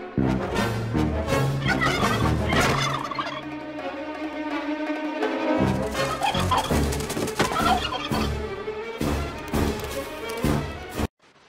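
A turkey gobbling in a German-dubbed Family Guy cartoon scene, loud repeated gobbles mixed with music and other cartoon sound effects throughout.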